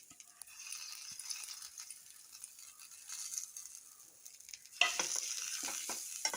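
Spices fry for chicken kurma, giving a faint, thin sizzle with light stirring taps that turns suddenly louder and brighter partway through as the pan is worked.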